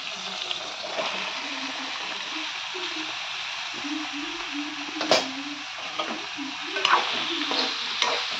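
Sliced ridge gourd hits a pan of sautéed onions, ginger-garlic and dried shrimp for a curry, sizzling and frying steadily while a utensil stirs and scrapes, with a few sharper clanks and splatters near the end.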